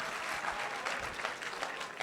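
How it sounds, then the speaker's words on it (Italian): Audience clapping at a job-day conference session in Cagliari, a brief, even patter of applause from a seated crowd in a hall, moderately loud and continuous. "un applauso anche a Eleonora."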